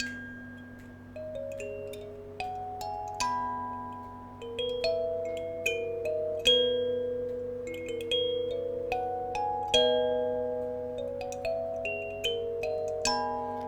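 Bright plucked kalimba tones step up and down in a gentle melody, some notes doubled an octave apart, each chiming and fading softly.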